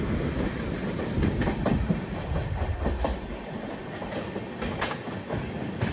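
A train rumbles along the tracks close by, with a continuous low roar and rhythmic clickety-clack of wheels over rail joints.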